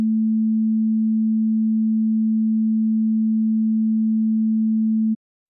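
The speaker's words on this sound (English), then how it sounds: "Here's the sine wave with the chorus plugin bypassed." A single pure, steady low sine wave tone with the chorus effect bypassed holds at constant pitch and loudness for about five seconds, then cuts off abruptly.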